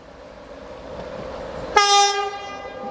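Train passing Northallerton station, its approaching rumble swelling before a loud, sustained two-tone horn blast cuts in and fades as it goes by.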